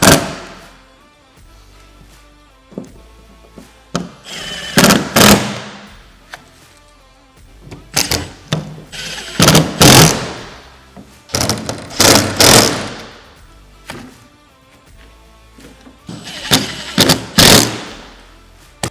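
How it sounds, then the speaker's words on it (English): Bolts on a SuperATV scratch-resistant full windshield for a Can-Am Maverick are tightened with a 4 mm Allen key and 10 mm socket, giving bursts of close ratcheting clicks and clunks separated by short quiet gaps. "take a 4 millimeter Allen and a 10 millimeter socket and tighten them all up"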